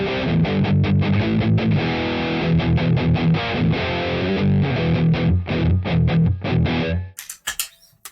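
An electric guitar played through a half-on gain stage with an overdrive pedal kicked on rings out thick and distorted, sustained chords and notes loud and close, ending in a brief scrape of noise.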